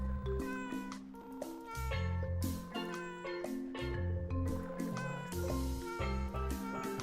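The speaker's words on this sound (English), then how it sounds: "The cat sound effect." Repeated cartoonish cat meows ring out one after another as a sound effect in a prototype video game, loud and close, over faint background music tones.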